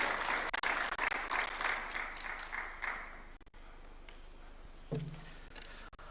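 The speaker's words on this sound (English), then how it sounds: "Let's welcome him with a clap, please." An audience at a formal Kenyan event applauds to welcome a Japanese diplomat to the podium, a moderately loud burst of many hands clapping that tapers off after about three seconds, leaving quieter room tone and a brief low hum.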